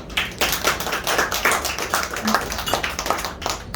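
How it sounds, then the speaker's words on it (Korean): A seated audience at a year-end forum lecture claps steadily, close and fairly loud, with no one speaking over it. "그 최성호 장관 박수 한번 주십시오"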